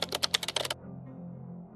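Rapid clicking of keys on a BlackBerry phone's physical keyboard, a quick burst of about a dozen sharp taps over under a second, close and alone, then quiet hum.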